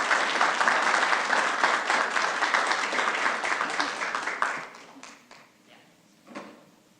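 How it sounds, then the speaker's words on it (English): Audience at a city council meeting applauding the mayor, a dense burst of clapping for about four seconds that thins out to a few scattered claps. "Let's give a round of applause for our amazing mayor."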